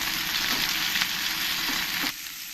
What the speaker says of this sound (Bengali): এখানে দিয়ে দেবো টমেটো দিয়ে সব একসঙ্গে আমি একটু ফ্রাই করে নেব